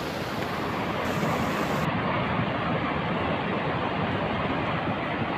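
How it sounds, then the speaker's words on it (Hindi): Flood water rushes loudly after a cloudburst above a village in the Bageshwar area, a dense, roaring, unbroken torrent heard close and alone, with a slight shift in tone partway through. "तेज बहाव, डरा देने वाली आवाज बहते हुए पानी की।"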